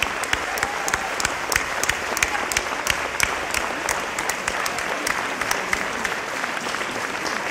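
Warm, continuous applause from a theatre audience at a tribute concert in the Meervaart, Amsterdam, with crisp nearby hand claps standing out rhythmically against the broader clapping crowd.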